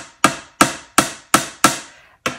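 A hammer strikes glass six times in a steady rhythm, each blow a loud, sharp impact that rings briefly before fading, close up with no talking.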